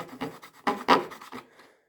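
A hacksaw cuts with its serrations to widen a gap in a case for an Estwing rock pick hammer, giving several short, close rasping strokes in an uneven rhythm before trailing off.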